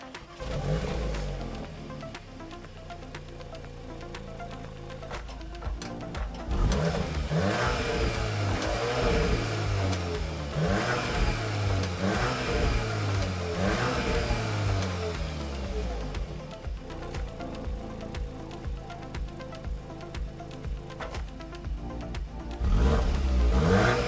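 An Audi S3's engine revs repeatedly, heard from the rear, rising and falling in loud throaty bursts, with a deep exhaust rumble throughout and no talking.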